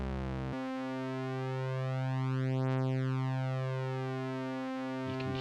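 Synthesizer tone with detuned oscillators played an octave up, a sustained buzzy note whose phasing sweeps slowly across its harmonics, steady and alone for several seconds before a brief change at the end.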